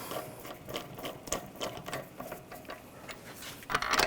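Bolt threaded by hand and ratcheted into a 2007-2013 BMW X5 rear brake caliper, a steady run of quick metallic ratchet clicks, close and alone, louder at the end.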